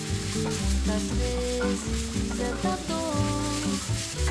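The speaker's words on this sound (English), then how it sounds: "Consistently stir fry and toss them around about 3 to 5 minutes over medium-high heat." Spiced meat stir-frying over medium-high heat in a cast iron pan, with a steady loud sizzle running throughout under prominent background music.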